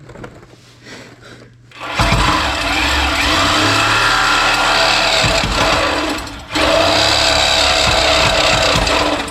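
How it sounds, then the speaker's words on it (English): Reciprocating saw cutting beneath a car with a blown 4.3L V6, a loud close buzzing rasp starting after a brief quiet moment, running steadily with one short pause before resuming. "Going out with the sawzall."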